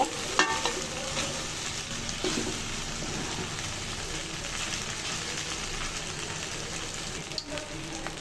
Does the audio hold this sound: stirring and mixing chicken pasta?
yes